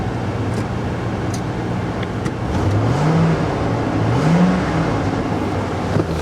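Car engine idling then pulling forward and reversing in a salvage yard, a low rumbling drone that rises in two smooth swells as the vehicle moves, with distant background noise and no talk.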